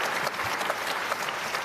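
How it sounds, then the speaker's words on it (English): An audience at an Oracle CloudWorld London session gives a brief round of applause, a dense, even clatter of many hands clapping in a room. "maybe a small round of applause just for the guys preparing it"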